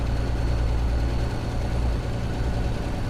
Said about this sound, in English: Really making that engine work.